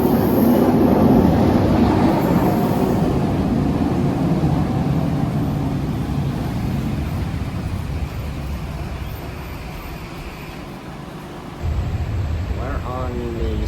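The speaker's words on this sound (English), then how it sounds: "Here comes the Skytrain, bound for waterfront." A steady rumbling roar of a SkyTrain rolling into King George Station in Surrey, the noise slowly easing, followed by a rising electric whine and a brief chime near the end.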